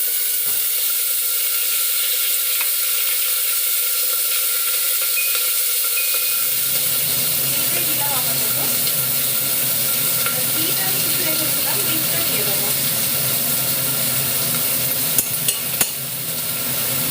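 Pumpkin, potato and peas frying in a pan for a home lunch, a steady loud sizzle running throughout, growing fuller partway through as more vegetables go in, with a few light clicks of stirring near the end.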